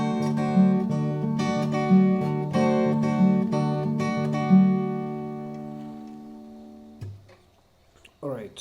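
Guitar plays the second bar of a song, a few plucked chords ringing in a slow, even pattern that fades over several seconds, with a brief bit of handling or voice near the end.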